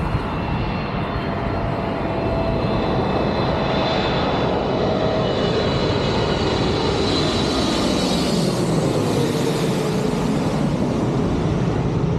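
A loud Air Canada airliner roars overhead landing at London Heathrow, its engine whine shifting in pitch as it passes low and close, steady and powerful throughout.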